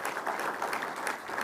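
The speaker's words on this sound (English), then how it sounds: "I would like to ask for a nice round of applause for Scott and his entire team" Audience applause at the NASCAR Media Tour for the Hendrick Motorsports event team, a dense, steady round of clapping from a crowd, sustained throughout.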